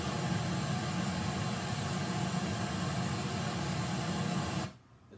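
Broadband rushing noise like a waterfall or surf pours on steadily and evenly, then cuts off sharply near the end into near silence.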